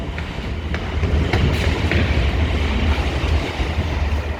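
A train rolls through a station platform at Leighton Buzzard as a loud, continuous rumble, with faint rhythmic wheel clatter and no voices.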